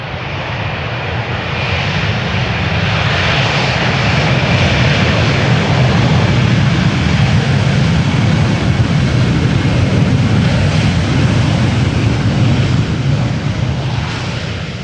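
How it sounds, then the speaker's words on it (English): An Airbus A320 of Azzurro Airways, arriving from Milan, lands at Amsterdam Schiphol in crosswind, its engine roar and reverse thrust forming a loud, steady broadband rumble that swells mid-clip and holds without talk. "Just in time to see the touchdown of the Azzurro Airways arriving from Milan, A320."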